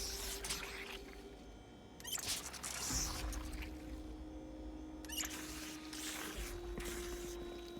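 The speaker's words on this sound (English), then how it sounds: "I can fill my water bottle in this other sink" Water is poured into a bottle at a sink in Project Zomboid, with soft trickling and pouring bursts broken by small clicks and squishes, faint and close with no talking.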